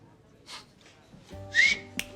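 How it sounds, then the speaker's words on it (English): A person whistles at a table after a meal, giving a short, fairly loud rising whistle near the middle of the clip, with low background hum and a brief click afterward. "don't whistle at your parents! It's rude."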